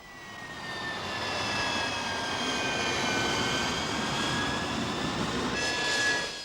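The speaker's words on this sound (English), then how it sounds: "RAF Phantoms are now stationed at Stanley. They joined a detachment of Harriers." An RAF Phantom or Harrier military jet at the Stanley base in the Falkland Islands in 1983 produces a continuous broad roar with a thin whine, swelling slightly toward the end.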